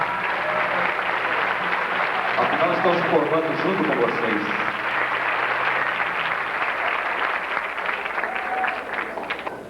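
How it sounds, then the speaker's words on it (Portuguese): Graduating economics bachelors at a 1994 FAAP degree ceremony applaud their parents, sustained crowd clapping with a presenter's voice speaking over it. "Mais um aplauso caprichado de vocês, formandos, para os seus pais."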